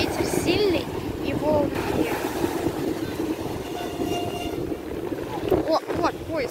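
Strong wind buffets the microphone in a steady, heavy roar, with faint voices barely audible beneath the rushing noise.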